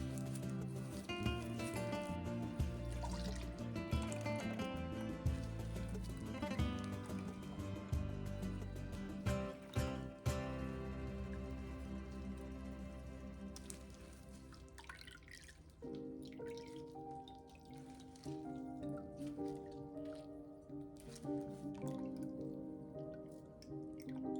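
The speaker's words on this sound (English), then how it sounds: "Now I'll squeeze out all of the buttermilk that I possibly can." Buttermilk squeezed by hand out of freshly made homemade butter, dripping and squishing steadily for about 24 seconds beneath a continuous layer of background music, with no talking.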